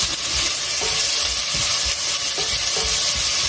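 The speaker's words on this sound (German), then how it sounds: "Dann gebe ich hier Zwiebel und Knoblauch rein." Onion and garlic sizzle steadily in a hot pan for a pumpkin pizza sauce, a dense continuous frying hiss with faint stirring scrapes, close and loud with no talking.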